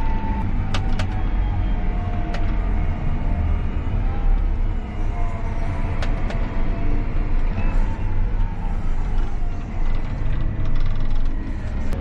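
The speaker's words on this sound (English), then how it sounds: "I'll start throttling back a little bit before I make my turn in" A tractor engine drones steadily and loudly, running in 21st gear while the driver eases off the throttle to slow for a turn into a field before planting, with a continuous close rumble and occasional faint clicks.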